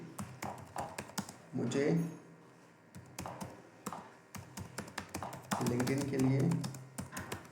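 Rapid keystrokes on a computer keyboard while a LinkedIn post is typed, steady close clicking throughout, with someone speaking Hindi over it.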